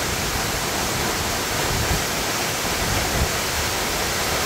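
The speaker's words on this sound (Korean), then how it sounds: "지금 수옥정 폭포에 들어왔는데요. 저 위에서 물줄기가 굉장히 시원하게" Suokjeong waterfall pouring down, a steady, dense roar of falling water that holds at an even level throughout with no other sounds standing out.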